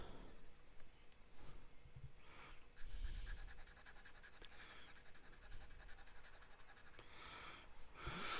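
A BENU fountain pen nib scratching across paper while writing, with soft, close strokes in short bursts and brief pauses, quiet and steady and without any speech.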